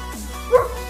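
A single short dog bark or yip, fairly close, over the steady low hum of a motorcycle engine, on a street in Quito at night.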